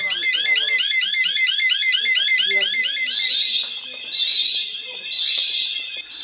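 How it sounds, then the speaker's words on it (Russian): A loud, rapidly pulsing electronic alarm blares continuously, its high warbling tone shifting to a steadier whine partway through, with voices faintly underneath. "Срабатывает пожарная сигнализация,"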